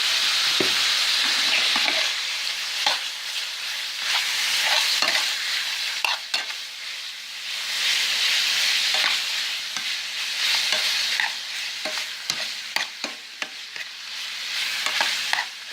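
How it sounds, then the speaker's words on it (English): Chopped chorizo frying in a pan, a steady loud sizzle broken by repeated scraping and clacking of a utensil as it is stirred, with no talking. "Give it a good stir. Keep chopping up the chorizo."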